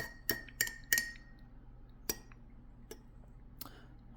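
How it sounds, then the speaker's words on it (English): A spoon clinks against a glass while tea is being stirred, making six sharp, bright taps at uneven intervals. The first three come close together and are the loudest, then three fainter ones follow over a quiet background. "All the clinking probably gets annoying"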